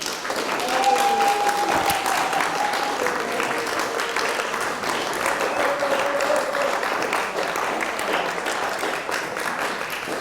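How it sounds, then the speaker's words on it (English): An audience at a 2017 lecture in Devizes applauds steadily, dense clapping from many hands filling the room for about ten seconds, with a few faint voices and a whistle mixed in. "please give him a huge, huge round of applause"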